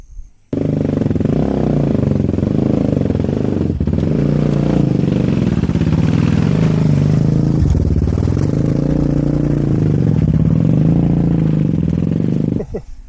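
Suzuki V-Strom 250 motorcycle working up a short dirt trail, its engine droning loud and close with rising and falling revs and occasional clatter from the rough ground.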